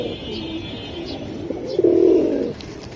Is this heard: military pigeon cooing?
yes